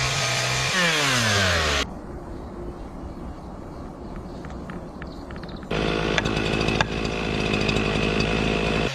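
A chainsaw makes a sliding cut into the base of a large tree during felling, its engine droning loud and steady for the whole stretch, rising in pitch and pushing harder toward the end.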